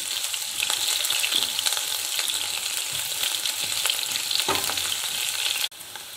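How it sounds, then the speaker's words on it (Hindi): Onions frying in mustard-seed oil for a Kerala-style chickpea curry, a steady dense sizzle with faint stirring, broad crackle throughout that drops abruptly near the end. "इसमें बचा हुआ अनियन हम डाल देंगे और इसे गोल्डन कलर आने तक फ्राई करेंगे"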